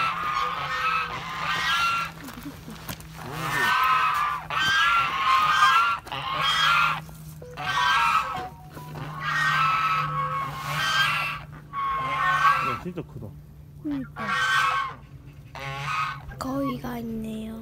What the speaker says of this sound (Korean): 거위가 있네요.